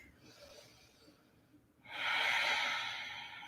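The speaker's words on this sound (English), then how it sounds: "Make your breath a little louder, more fuller even." Loud breathing during a yoga strength session: a softer breath, a short pause, then a strong, rushing exhale that swells and slowly fades, close and alone.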